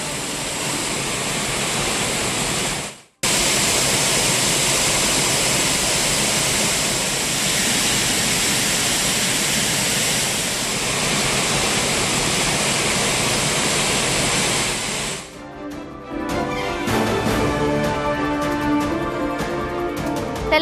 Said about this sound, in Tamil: கனமழையால் குற்றாலம் அருவிகளில் ஆர்ப்பரிக்கும் தண்ணீர்